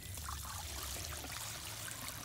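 Dirty water, full of sand and grime, dumped outdoors from the tank of a Bissell ProHeat Pet carpet cleaner, making a faint, steady, continuous pouring trickle with no talking.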